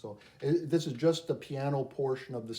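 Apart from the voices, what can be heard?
No distinct noise like a dog, phone or traffic.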